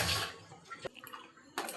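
Tap water runs while ginger is washed in a home kitchen, a short, soft splashing rush that breaks off briefly mid-clip and then returns.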